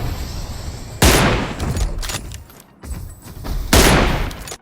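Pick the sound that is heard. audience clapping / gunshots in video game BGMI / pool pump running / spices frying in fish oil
gunshots in video game BGMI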